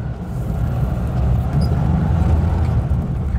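Bedford HA van pulling away under way, a steady low engine and drivetrain drone with rumbling road noise heard from inside the cab.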